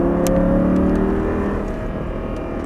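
Audi R8 accelerates hard out of a corner on a race track, the engine note climbing steadily as a loud, close drone with a rising whine over a few seconds.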